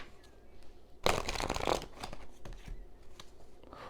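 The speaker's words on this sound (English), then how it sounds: "It doesn't even want me to shuffle these cards." Tarot cards riffle-shuffled in a burst of dense crackling flutter lasting about a second, close up, with quieter scattered clicks and handling sounds around it.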